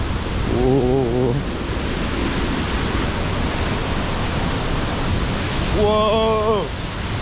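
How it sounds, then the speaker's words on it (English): Waterfall on a path during a road trip in Akita, Japan, roaring as steady broadband rushing water that fills the whole clip, loud and close, with two brief voiced exclamations riding over the noise. "you can probably hear the water running"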